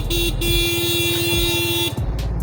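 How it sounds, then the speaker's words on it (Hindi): A steady, loud Yamaha FZS 25 motorcycle horn blares continuously for about two seconds over an idling engine, then cuts off abruptly. "तो हॉर्न की आवाज़ ठीक है"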